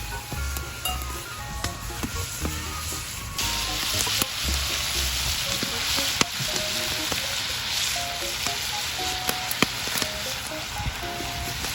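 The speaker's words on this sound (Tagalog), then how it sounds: "Basta lang na medyo na fry natin siya, no?" Pork steak fries in a pan for lunch on a farm, a steady loud sizzle running throughout with occasional pops and crackles and light utensil scrapes, no talking.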